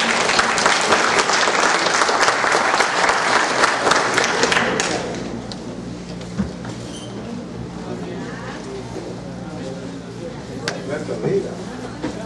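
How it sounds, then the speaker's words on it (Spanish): Loud audience applause welcomes a speaker at a law event, dense clapping filling the first five seconds before dropping to quiet room noise with faint scattered sounds. "señor doctor Frank Almanza Altamirano, a quien recibimos con fuerte aplauso."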